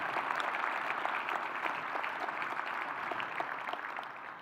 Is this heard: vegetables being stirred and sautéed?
no